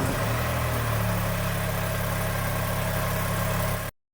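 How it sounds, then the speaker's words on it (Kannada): A Mahindra 3XO car engine idles after starting, a steady low rumbling hum heard close up with no talking. "ಇಂಜಿನ್ ಸ್ಟಾರ್ಟ್ ಹಾಕೊಂಡಿದೆ ನೋಡ್ರಿ ಯಾವ ಥರ ಕಾಣುತ್ತೆ ಅಂತ."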